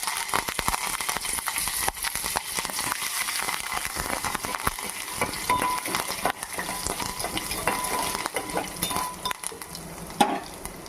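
Curry leaves and mustard seeds fry in hot oil as a tempering for hotel-style peanut coconut chutney, giving a steady moderate sizzle with frequent crackling pops and occasional scrapes of a spoon, with no talk.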